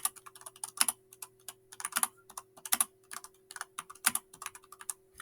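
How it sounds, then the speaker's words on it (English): Steady typing on a computer keyboard, close and fairly quiet, with quick irregular clusters of key clicks and a few louder strikes, like a spacebar or enter key, in a quiet room without voices. "I would type my report here"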